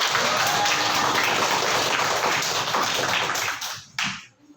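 Children clapping together in a classroom, a brisk dense burst of applause that holds steady, then thins and stops with a few last claps near the end.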